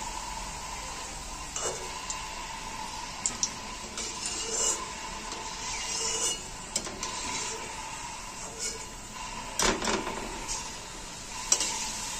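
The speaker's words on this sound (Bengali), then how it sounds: "এরকম করে পুরো সয়াবিনটা ভেজে নেব পকোড়ার মতন করে" Soybean chunks frying in a pan like pakora for crispy chili soyabean, a low steady sizzle with occasional stirring scrapes and clicks, fairly quiet throughout with no talk.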